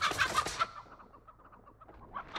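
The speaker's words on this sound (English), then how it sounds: "The chicken will summon another killer." A chicken in The Texas Chainsaw Massacre video game clucks in a loud, busy burst of squawks at the start, then settles into softer, scattered clucks before a brief louder cluck at the end.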